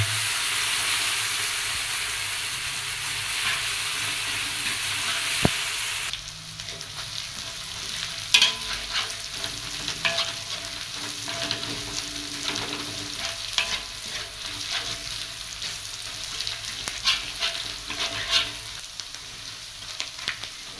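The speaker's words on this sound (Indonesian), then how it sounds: "Kita masukkan bumbunya. Kita tumis sampai matang." Spice paste sautéing in hot oil for a simple Indonesian home-cooked dish, a bright steady sizzle that drops abruptly after a few seconds into a lower crackle with spatula scrapes and taps, no talking.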